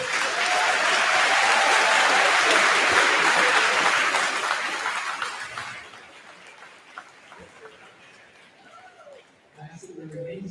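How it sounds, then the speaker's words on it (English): A large crowd at a high school commencement ceremony claps loudly for the graduates, the applause building and then fading out after several seconds as a voice begins speaking over the hall. "Can we give them a round of applause?"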